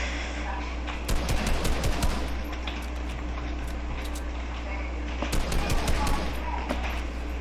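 Video game gunfire crackles in two rapid automatic bursts over a constant low drone, sharp and close, with quieter steady background between the bursts.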